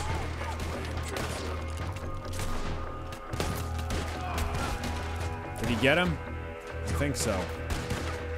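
Gunfire in the Red Dead Redemption II video game, with several sharp shots spread across the clip under excited talk from players.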